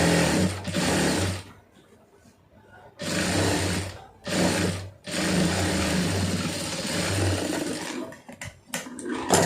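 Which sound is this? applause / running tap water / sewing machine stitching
sewing machine stitching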